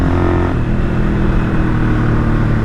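A 1978 Kawasaki KL250 motorcycle with a newly installed carburetor, riding at speed on a cold morning: a loud, steady engine drone with wind rumble, close up and continuous.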